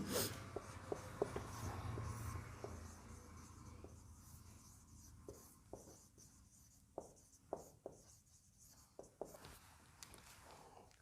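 A teacher writes on a classroom board, short tapping and scraping strokes in irregular bursts, fairly faint and close, with a low murmur of voices at the start.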